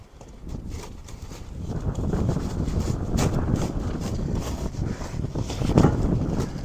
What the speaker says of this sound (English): Did I say it's windy? Because it's still windy.